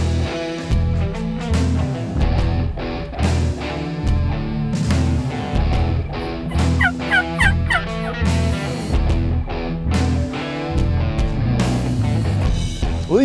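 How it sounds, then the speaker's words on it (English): Wild Merriam's turkeys gobble repeatedly and loudly at close range during a spring hunt, several birds' gobbles overlapping in a dense, continuous chorus. "these gobblers are coming right in"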